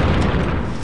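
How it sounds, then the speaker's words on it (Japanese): A bomb flower explodes in The Legend of Zelda: Skyward Sword on Eldin Volcano, heard as a loud, dense blast whose low, rumbling roar fills the whole moment without fading. "地面から引き抜くと爆発する不思議な花です。"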